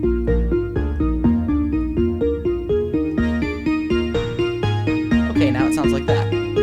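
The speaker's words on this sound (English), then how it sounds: "let's make it a little more synthy." Rapid synthy ping notes from an electronic instrument pulse in a steady repeating pattern, bright and close, with a swirling sweep building near the end; no voices.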